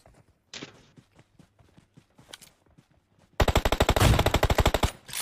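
Video-game gunfire: a few scattered single shots and footstep-like clicks, then a loud rapid burst of automatic fire in close, even succession.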